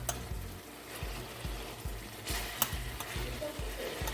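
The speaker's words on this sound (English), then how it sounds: "I'm gonna be frying it on the other side for about 12 to 14 minutes" Pork sizzles steadily in a hot pan, a constant crackling hiss with faint rhythmic thumps underneath and no talking.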